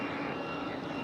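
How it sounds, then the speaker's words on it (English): A JetBlue Airbus A220 jet roars steadily at an airport in Raleigh-Durham, a broad, even engine rush heard at moderate distance with no voices. "First one was JetBlue A220"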